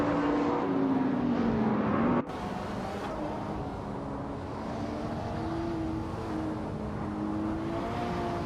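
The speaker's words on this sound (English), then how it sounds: "The modern supercars class with high-performance vehicles is making the race very competitive." Modern supercars race around a Daimler test track in a video game, their engines droning steadily with shifting pitch, one abrupt cut partway through, then continuous mid-level engine roar and no talk.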